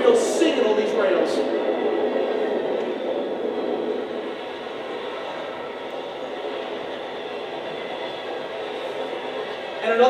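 A freight train rolls past with a steady, loud rumble of wheels on rails, the wheels singing with a faint metallic ringing above it, continuous throughout.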